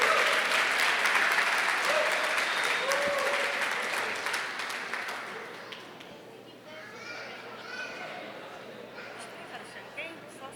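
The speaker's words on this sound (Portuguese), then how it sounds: "Uma salva de palmas para eles" Audience at a church couples' event applauds a group asked to stand, loud clapping mixed with children's voices and chatter that fades after about five seconds, leaving scattered voices and light noise.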